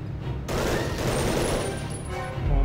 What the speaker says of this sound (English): We have another machine gun.